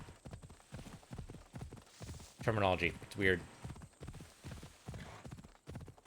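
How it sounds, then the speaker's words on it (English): A horse's hooves clop at a steady walking rhythm while riding in Assassin's Creed Odyssey, running under a voice that talks over most of it. "we can just ride a horse?"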